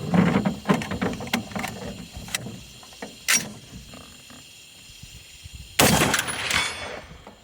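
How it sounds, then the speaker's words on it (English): Rifle shots with normal, non-tracer rounds are fired outdoors at night. Several sharp cracks and mechanical clicks come first, then a single loud shot with a lingering echo. "I'm just shooting normal rounds, no tracers."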